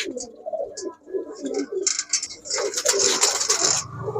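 High-flyer Giribaz pigeons coo in low, throaty bursts inside a pigeon shop, followed by a louder stretch of flapping and rustling noise.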